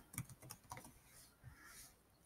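Quiet keystrokes on a computer keyboard, a short burst of soft clicks followed by a few scattered taps, faint and close.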